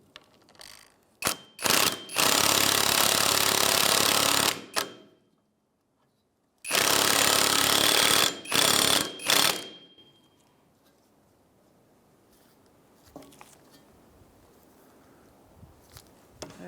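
Hub puller tool drawing a new rear wheel hub into the knuckle of a 2003-2011 Honda Element, heard as two long loud bursts of grinding, ratcheting power-tool noise with short clicks between them, then quieter faint handling sounds.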